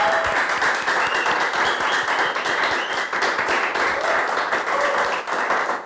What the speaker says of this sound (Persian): خواهش میکنم تشویق بفرمایید.